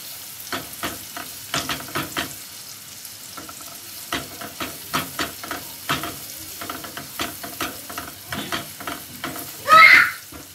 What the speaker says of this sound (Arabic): هبدا احط الزيت والسمنه على النار، والبصله اخليها تدبل معايا